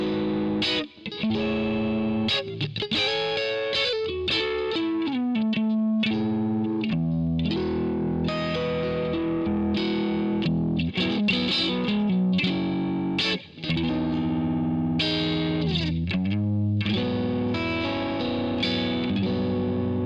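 Electric guitar with a 5-way switch set to fourth position, played through the Neural DSP Archetype Tim Henson plugin; bright, effected chords and melodic runs with a chorus shimmer and light drive, continuous and close, with no voices.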